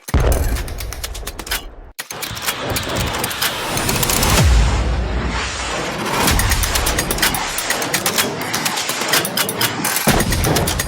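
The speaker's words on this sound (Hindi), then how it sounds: "इसके फौरन बाद एंटी एयरक्राफ्ट गन से जवाबी फायरिंग शुरू हुई है।" Rapid anti-aircraft gunfire and heavy explosions ring out over Kabul, dense bursts of shots and booms running almost continuously with a brief gap near the two-second mark, loud and sustained throughout.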